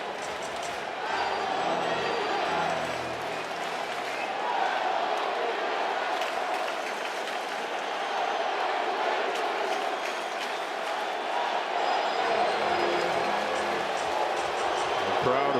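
A baseball stadium crowd of 42,000 roars steadily throughout a tense one-run late-inning game between the Dodgers and Diamondbacks, a dense, loud wash of cheering that barely rises or falls.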